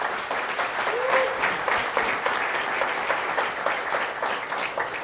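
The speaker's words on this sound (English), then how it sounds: "Let's give them a round of applause." A conference audience at a government cybersecurity event gives a steady round of applause, with dense, continuous clapping from a sizable crowd throughout.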